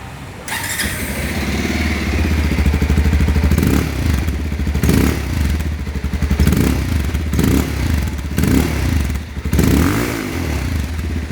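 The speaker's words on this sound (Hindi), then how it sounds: "आप सुन लेते हैं पल्सर 220F का साउंड कैसा लगा" Bajaj Pulsar 220F BS7 motorcycle engine starting and running close by, with deep bassy idle and repeated throttle blips, some clattery mechanical noise throughout.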